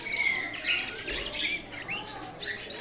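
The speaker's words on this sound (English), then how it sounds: "Some cute little bird." A small bird chirps outdoors in the morning, giving a string of thin, high tweets and short squeaky calls at moderate distance over soft ambient background, with no voices.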